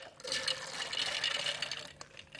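Liquid pours steadily into a mixer jar holding soaked soybeans, a close splashing fill lasting about two seconds with a brief break near the end, no talking.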